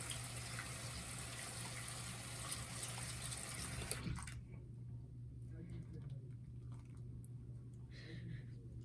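Tap water runs steadily over a makeup sponge being rinsed in a sink, a broadband rush that cuts off abruptly partway through, leaving quieter squishing and faint handling noises.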